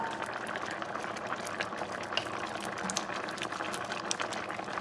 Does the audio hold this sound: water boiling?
yes